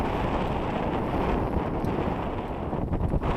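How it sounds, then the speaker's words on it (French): Strong wind of about 18 knots roars steadily across the microphone at sea near Fort Boyard, a dense rushing noise with slight gusting swells and no voices. "17, 18 nœuds c'est très rafaleux de toute façon"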